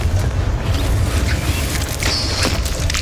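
A Confringo fire spell blast in Hogwarts Legacy, a deep rumbling boom over dense, loud game ambience, with a brief whistling tone midway and no talk.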